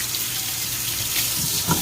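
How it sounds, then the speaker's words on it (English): Hot water runs steadily from a tap into a kitchen sink where a Butterball XL turkey fryer unit sits for cleaning, a continuous close splashing hiss with a brief louder gurgle near the end. "Got my water on,"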